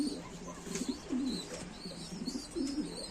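Pigeons on a rooftop farm coo in repeated low throaty phrases, with occasional faint chirps from other birds, nearby and moderately quiet, and no talking.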